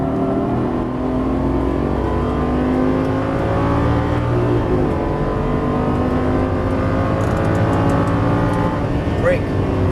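A Lamborghini Gallardo engine drones loud and continuous on throttle around a track in 2014, a dense steady roar with rising revs throughout, close and unbroken.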